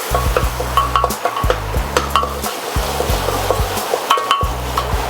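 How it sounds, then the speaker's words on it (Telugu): Ginger garlic paste fries in a hot pan with a continuous close sizzle while a spoon scrapes and knocks against the pan in a steady, repeated stirring rhythm. "అల్లం వెల్లుల్లిపాయ పేస్ట్ వేసుకున్నామండి. ఇది పచ్చివాసన పోయేదాకా ఇలా వేగించుకోవాలి."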